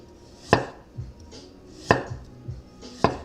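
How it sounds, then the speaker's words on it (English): A knife julienning a carrot into thin sticks on a cutting board: three sharp chopping strikes spaced about a second and a half apart, with softer taps between, close and clear. "We're trying to julienne it. We're trying to make nice thin sticks."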